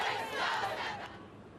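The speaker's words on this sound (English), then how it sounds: "We heard some Black Lives Matter chants coming from apartments, and the protesters would respond to that." Protesters in a street crowd shout a loud rallying chant in unison, a brief, roaring swell of many voices that fades toward the end.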